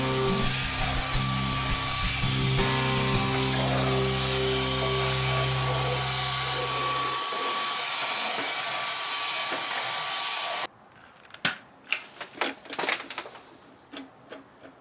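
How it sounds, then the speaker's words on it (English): A Dyson hand vacuum sucks ashes out of a Traeger pellet grill barrel, giving a loud steady motor whine that cuts off partway through, followed by scattered clattering handling noises. "And I do so with this Dyson hand vacuum."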